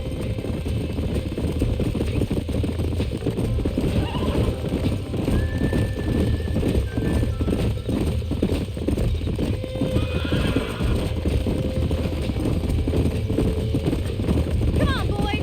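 Horses in the Red Dead Redemption video game whinny and clop their hooves close by over a steady background bed, with game dialogue voices heard in between.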